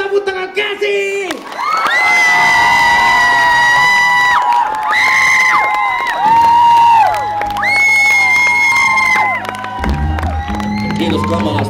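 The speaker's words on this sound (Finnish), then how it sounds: "Jos te haluatte lisää, niin taputtakaa käsiin!" A concert audience at a band show at Rytmikorjaamo shouts and cheers loudly, with sustained high whoops and yells close by and clapping underneath.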